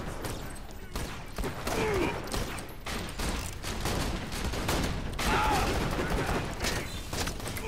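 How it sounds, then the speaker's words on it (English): Rapid, crackling gunfire in Borderlands 2 gameplay, bursts of shots layered with mechanical clatter and game effects, moderately loud and continuous. "Stop shooting me."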